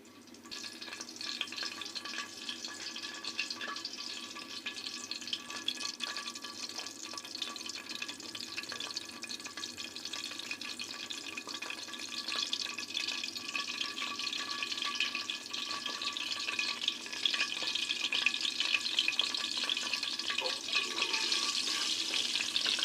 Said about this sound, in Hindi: घी हमारा गर्म हो रहा है, जब सही गर्म होगा तो इसमें हम गोश्त शामिल करके उसको फ्राई कर लेंगे।